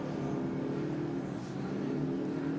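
The Brighton team's Formula Student race car runs slowly on the track, a steady, fairly distant engine drone holding at an even level throughout.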